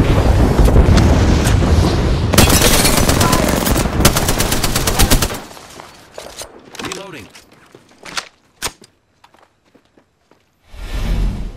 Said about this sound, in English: There is an air strike on our position.